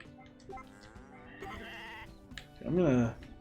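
A sheep bleats in the farming video game Story of Seasons: A Wonderful Life, one loud, wavering bleat near the end, preceded by soft game tones and a voice talking.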